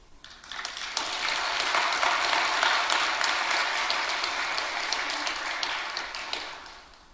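A church congregation applauds its choir, a dense wash of clapping that swells in within the first second, holds steady and tapers off toward the end.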